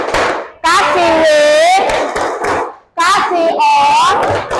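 A classroom of students performs the 'tepuk wow' clap chant in Indonesian, loud and close. Two bursts of group voices chant in unison, punctuated by claps.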